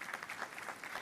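A brief, faint patter of audience clapping, distant and soft.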